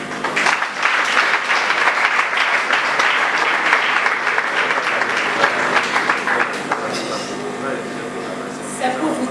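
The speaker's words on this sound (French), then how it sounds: "veuillez applaudir pour vous-même." Audience applause in a hall at the JCI Benin national convention in Abomey, a loud, steady wash of clapping that stays full for several seconds before gradually thinning out toward the end.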